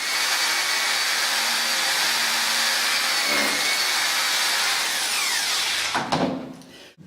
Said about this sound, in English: drilling a series of holes where I laid out for this opening from both sides and underneath